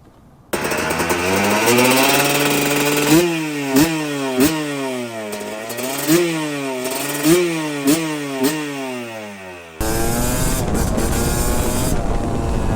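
A modified, re-jetted Yamaha YZ250 two-stroke motorcycle engine tuned for extra horsepower, revved repeatedly up close: about half a dozen sharp climbing and falling revs over a buzzing idle, ending in a rough, steady drone.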